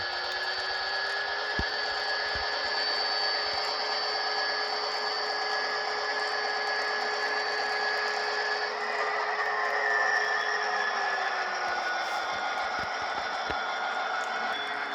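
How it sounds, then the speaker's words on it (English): A Broadway Limited Imports N scale SD40-2 model locomotive's sound decoder gives a steady electronic diesel drone with high whine, and the tone steps down partway through toward idle. It is continuous and close. "As it comes down the hill, we should hear it ramp down to almost an idle."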